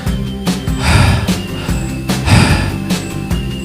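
A person imitates heavy, exhausted panting with a voice, loud close breaths in a repeating rhythm of several gasping inhales and exhales.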